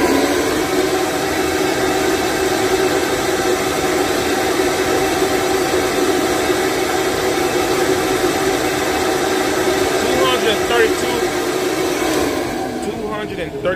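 An Edelbrock RPM Air Gap intake manifold for a 351 Windsor runs on a flow bench. Loud, constant rushing air roars steadily throughout, then eases slightly near the end.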